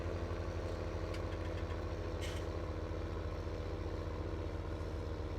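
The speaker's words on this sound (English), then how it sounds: "this tractor does not pull this up the hill very well, does it?" Steady low engine drone of a tractor in Farming Simulator 17, hauling a windrower uphill at a constant idle-like rumble with a brief clatter midway, no voices.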